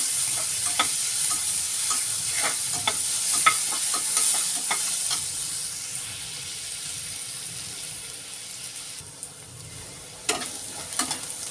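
Onions are frying in a pan for a sprouted mung bean dish, giving a continuous close sizzle with quick stirring scrapes in the first half that ease into a softer hiss.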